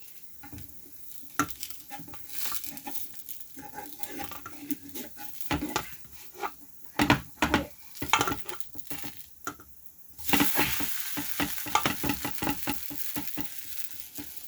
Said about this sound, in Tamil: நாங்கள் தோசை சுட்டு கொண்டு இருக்கின்றோம்